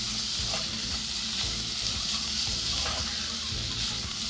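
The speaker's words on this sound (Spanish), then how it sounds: "Agregamos la carne." Diced beef goes into a pot for Peruvian sopa a la minuta and sizzles loudly and steadily, with faint stirring scrapes under the constant frying hiss.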